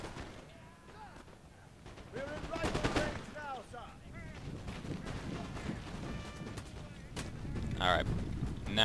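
Musket volleys ring out in a Napoleon: Total War battle, a series of cracking shots and rattling fusillades over ambient battlefield noise, with a voice speaking at times.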